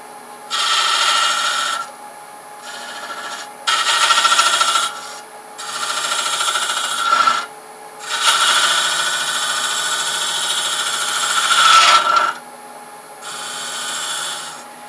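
A Hunter carbide tool cuts wood on a lathe while hollow-form woodturning, with bursts of rasping, scraping cuts separated by short pauses, loud and close.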